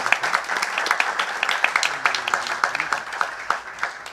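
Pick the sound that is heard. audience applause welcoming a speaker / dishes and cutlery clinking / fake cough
audience applause welcoming a speaker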